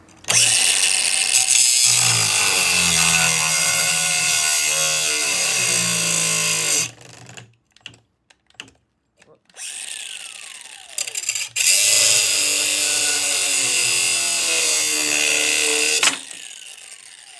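Replacement fan motor in a 14,000 BTU Fedders air conditioner running with a loud steady mechanical whir and rattle, cutting off briefly midway with clunks before starting up again and running on, no talk over it.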